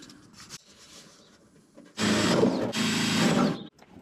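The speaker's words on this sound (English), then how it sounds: "Now I can drill through the front" A drill bores through a taped carbon-fibre car interior part in two sustained, loud whirring runs with a brief pause between, following quiet handling.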